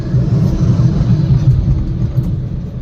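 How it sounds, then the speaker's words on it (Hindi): A car cruises in fourth gear, its engine a steady low rumble with a faint pulsing hum, heard from inside the cabin, loud and continuous with no speech. "लेकिन मेरी कार चल रही है फोर्थ गियर में"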